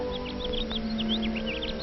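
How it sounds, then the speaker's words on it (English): Birds twitter at dawn in quick, light chirps scattered across the moment, heard over a steady musical background. "The birds twitter."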